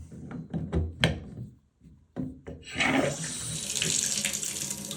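After a few clicks and knocks and a brief pause, water gushes from a repaired shower faucet fixed for a leaking handle, a steady splashing rush that builds and continues to the end.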